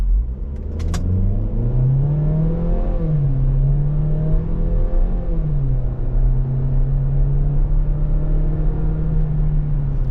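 A 2023 Chevrolet Equinox RS pulls away from a stop under full throttle, its engine droning loudly from inside the cabin as revs climb, drop briefly with each automatic upshift, then settle into a steady flat hum.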